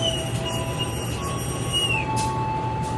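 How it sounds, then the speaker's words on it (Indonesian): A Pramex commuter train pulls out of Kutoarjo station with a steady low rumble and metallic wheel squeals drifting in and out, a continuous mid-distance rail roar with no voices. "baru aja kereta api komuter lain Pramex berangkat dari stasiun Kutoarjo"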